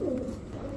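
A Sobji Gorra pigeon from a pair sitting on two eggs gives one short, quiet, low coo that fades within a second.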